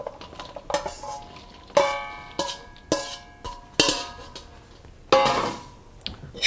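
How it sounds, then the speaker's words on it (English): A metal spoon scrapes and clanks against a pan as a pound of pre-cooked penne is stirred into a mushroom sauce, with a series of sharp, ringing strikes at irregular intervals and no talking. "And we're going to stir it up."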